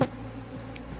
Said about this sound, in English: So there was about a handful of bees that I could shake into this hive